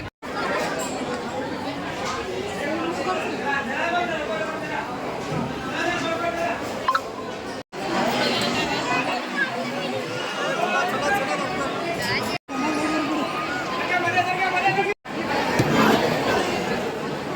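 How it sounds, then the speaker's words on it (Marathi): A dense crowd of devotees at the Akkalkot Swami temple fills the air with constant overlapping chatter and murmur, loud and close, broken by a few abrupt cuts. "पाहू शकता किती गर्दी आहे."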